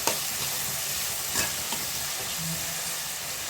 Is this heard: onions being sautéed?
yes